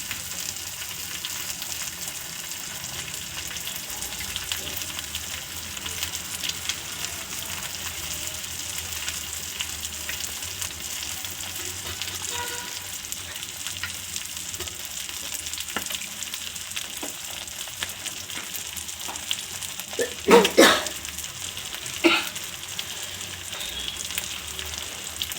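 An egg omelette fries in oil over a low flame, a constant close crackling sizzle with a few sharper clatters of a utensil near the end, no one speaking.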